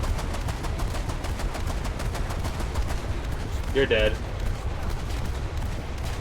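Rapid naval gunfire from War Thunder, a video game: dense, steady bursts of cannon and machine-gun fire run throughout, loud and close, with a voice talking briefly over it.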